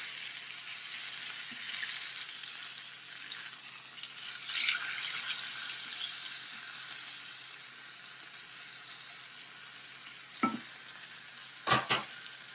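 Pork chops and peppers sauté in a hot pan with a steady, close, broadband sizzle throughout, interrupted near the end by a couple of sharp clinks of a utensil against the pan.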